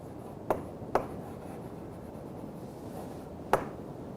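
Pen or chalk strokes during a lecture, three short, crisp scribbling scratches, two close together and a third after a pause, set against a quiet room hiss.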